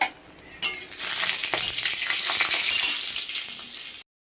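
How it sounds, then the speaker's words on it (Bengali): Lentil dumplings (bori) dropped into hot oil burst into a loud, dense crackling sizzle that holds steady for a few seconds, with the faint scrape of a spoon, then cuts off. "তেল গরম হয়ে গেছে, দিয়ে দিচ্ছি বড়ি। বড়িগুলো ভেজে রাখবো।"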